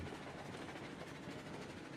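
A train in the video game Railroads Online rumbles steadily with a continuous low roll and faint rhythmic clatter, dense and unbroken throughout, with no voices.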